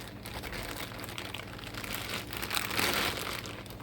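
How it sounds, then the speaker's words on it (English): Plastic bubble wrap crinkles and rustles continuously up close as it is removed from a new distributor part for a 1988 Pontiac Fiero, growing a little louder toward the end. "Let's remove some of this bubble wrap here."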